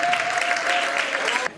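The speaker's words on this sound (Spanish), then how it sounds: "vamos a recibir con un fuerte aplauso a Nuria Martínez" Steady applause from a crowd at an awards ceremony fills the whole stretch, dense clapping that cuts off sharply near the end.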